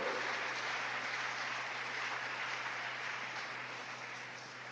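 A church congregation claps together in sustained, even applause over a steady low hum, gradually easing off slightly, with no speech.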